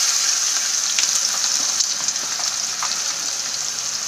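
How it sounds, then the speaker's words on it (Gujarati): Chopped onion sautéing in hot oil with cumin seeds and a pinch of asafoetida, a loud steady sizzle and crackle that holds for several seconds. "તો આ રીતે હલાવીને આપણે એને આછા ગુલાબી રંગની થાય ત્યાં સુધી એને સાંતળી લઈશું."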